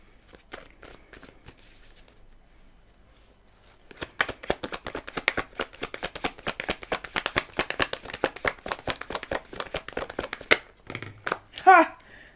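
Tarot cards are shuffled in a fast, steady run of crisp riffling taps that go on for several seconds after quieter handling, followed by a brief louder rustle at the end.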